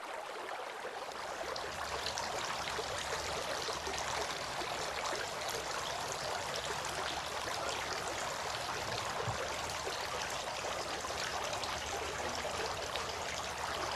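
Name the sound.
water trickling during ablution washing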